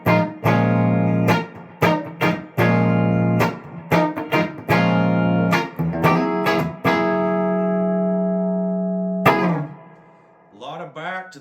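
Ibanez George Benson signature hollow-body guitar played through its neck pickup, a series of ringing chords and single notes with warm, rich sustain, up close and alone, ending in a short run of quick picked notes.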